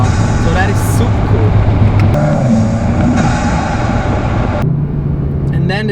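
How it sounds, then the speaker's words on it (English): A 2019 Volkswagen Golf GTI TCR under acceleration, loud in-cabin engine drone with rising turbo boost whine and shifting tones, continuous and close. "the turbo noises are actually really nice"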